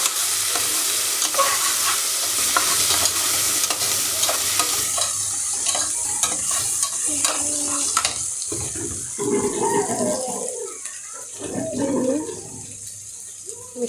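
A pan of bottle gourd curry sizzles steadily while it is stirred with a few scraping strokes. A broad hiss from running water or frying carries under it, and a brief voice and some clatter come in near the end.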